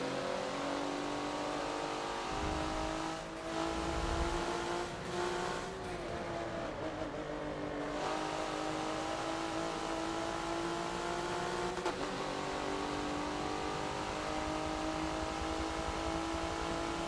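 A race car laps Lime Rock Park in the Forza racing game, its engine droning steadily at high revs throughout, with brief shifts and tire scrubbing as it rides off line toward the grass.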